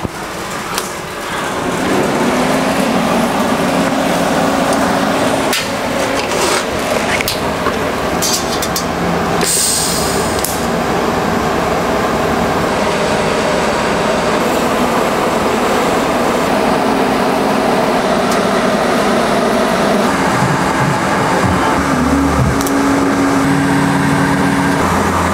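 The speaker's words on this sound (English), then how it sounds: "So now I'm gonna weld this one up all the way to the back." A welder running a long bead on a widened VW Beetle fender, heard as a loud, continuous crackling hiss that stays steady for about 25 seconds with no talking.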